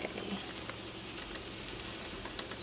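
Tofu scramble sizzles steadily in a pan, an even close hiss of frying with a faint scrape or two, no talking.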